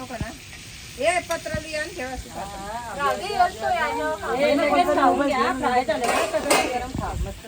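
Food frying in a pan at a family party gathering, a steady sizzle running beneath loud, overlapping voices of several people talking throughout.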